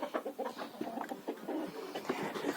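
Chickens cluck and chatter in a rural Ukrainian poultry yard during morning feeding, a dense overlapping stream of close calls from several birds with no talk.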